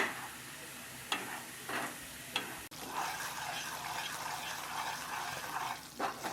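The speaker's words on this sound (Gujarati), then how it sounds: "બધો જ રવો એમાં એડ કરી દઈશું અને એકદમ ધીમા ગેસ પર આ રવાને આપણે શેકીશું" Semolina roasts in ghee over a very low flame, giving a soft, quiet sizzle while a spoon stirs it with a few scraping strokes, close and without talk.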